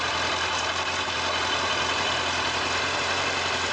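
A Kawasaki ZZR1100 D motorcycle with a newly fitted fuel pump idles close by, holding a steady, even engine drone with a constant low rumble and no talk.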